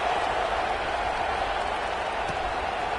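Steady broadband crowd buzz fills a packed stadium at a USC versus Tennessee college football game just after a touchdown, a constant, dense murmur with no distinct cheers standing out.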